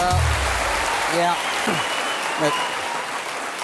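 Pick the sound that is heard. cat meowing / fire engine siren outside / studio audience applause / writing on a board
studio audience applause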